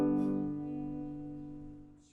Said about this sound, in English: you can also play this chord using only the bottom 4 strings, which in this case would sound like this